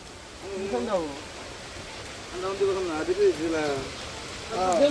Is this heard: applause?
no